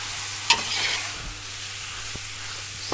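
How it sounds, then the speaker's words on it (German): Beef with caraway and garlic searing in a pot for goulash soup, a steady close sizzle broken by a few sharp scrapes of stirring, with no talking. "das Fleisch ist jetzt schön angebraten"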